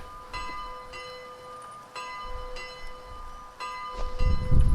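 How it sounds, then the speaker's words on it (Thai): A church-style bell in the video game Bodycam, set in an Italian-styled location, tolls in slow, evenly spaced ringing strikes with a long sustained tone, fairly distant, with low rumbling ambience rising toward the end and no talking. "กูยืนหน้าร้านเขาตีระฆังไล่แล้ว"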